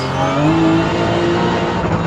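A supercar's 4.8 liter V10 engine, rated well over 500 horsepower, drones loudly and steadily close by, its tone rising slightly as it revs.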